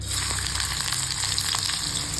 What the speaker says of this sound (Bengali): কড়াইতে তেল একটু বেশি দিতে হবে আর এখন দিয়ে দিব হচ্ছে পেঁয়াজ কুচি